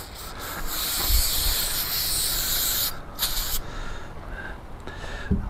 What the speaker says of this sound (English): Little brake parts cleaner.